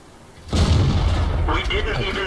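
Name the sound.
tank cannon shots in the video game World of Tanks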